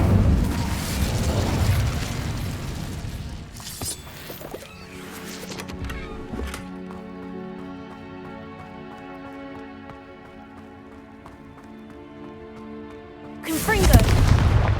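Fiery spell blasts from a Harry Potter video game: a loud burst with crackling flames at the start, a sustained tonal hum and effects through the middle, and a second loud burst near the end, with game music and effects underneath.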